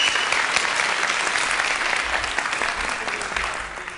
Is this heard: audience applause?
yes